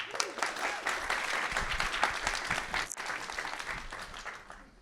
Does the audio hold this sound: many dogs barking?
no